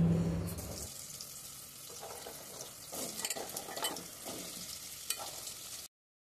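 Potatoes, pointed gourd and sweet potato fry quietly in a pan over a spice tempering, giving a soft, continuous sizzle with occasional stirring scrapes before the sound cuts off abruptly.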